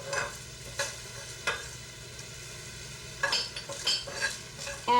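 Red chilies and coriander seeds dry-roast in a pan, with a low steady sizzle broken by repeated scraping and clinking strokes of a utensil against the metal.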